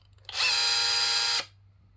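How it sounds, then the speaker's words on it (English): A small nano chainsaw pruning a Turkey fig bonsai whines at high pitch for about a second, a sharp buzzing burst that starts and stops abruptly, close by. "The power of the chainsaw."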